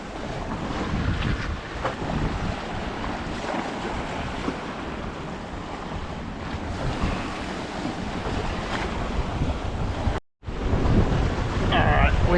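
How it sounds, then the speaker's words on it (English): Water from a current slapping against ocean swell beneath a sailboat under way near Beaufort and Cape Hatteras, a steady wash of surf-like splashing mixed with heavy wind buffeting on the microphone, continuous for the whole stretch apart from one brief dropout. "This is the current smacking the swell."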